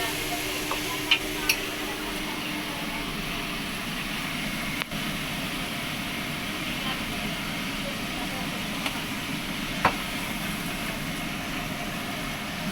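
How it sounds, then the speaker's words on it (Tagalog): Pancit noodles with chorizo being stirred and cooked for a birthday, a steady low sizzle and scraping with occasional sharp clinks of utensils against the pan. "si Madam nagluluto ng pansit"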